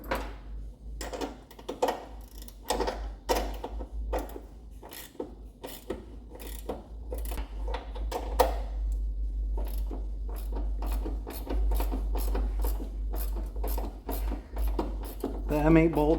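An M8 bolt is tightened to press a new door hinge bushing into a Chevrolet C1500 truck door, giving a steady series of sharp ratcheting clicks over a low constant hum, close and fairly loud throughout.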